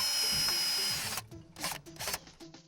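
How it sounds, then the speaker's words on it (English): A power drill drives coated deck screws into a wooden plinth block at the base of a porch column, one sustained whirring run followed by short bursts, close and loud, no talking. "Alan shows Hunter how to attach the plinth block to the bottom of the column using coated deck screws"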